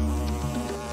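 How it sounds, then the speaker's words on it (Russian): Square cartoon bees from a Minecraft animation buzz in a steady, close drone with a slight wavering pitch, alone for a brief moment. "Какие забавные квадратные пчелы."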